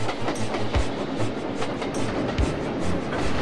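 A train rolling along rails, steady rumble with rhythmic clickety-clack wheel beats, close and continuous with no talking.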